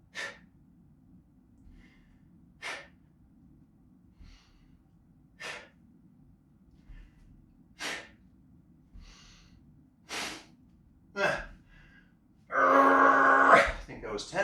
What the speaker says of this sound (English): Sharp exhale can help.